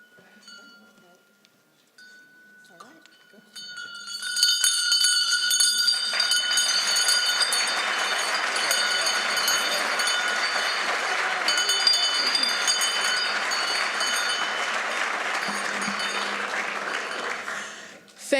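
Many hand bells are rung together at a 2017 rededication ceremony for the Schindler Education Center. After quiet moments, a dense, bright, continuous jangling swells and holds for about fourteen seconds with a crowd-like wash beneath, then fades.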